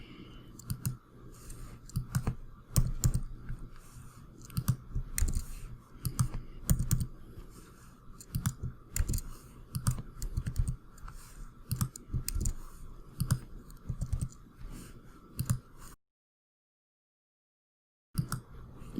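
Rapid computer mouse clicks, sharp and close, arriving in irregular bursts over a faint background, with a brief silent gap near the end.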